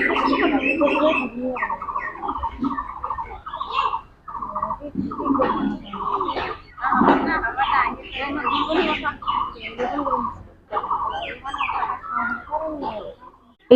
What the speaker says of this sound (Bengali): দেখেছো কত পায়রা